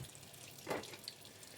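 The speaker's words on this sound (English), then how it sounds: "have the cold water running" Cold water runs from a kitchen tap while a freshly caught bluegill is being cleaned, a brief soft splash and rush of water over a low steady background, with no voices.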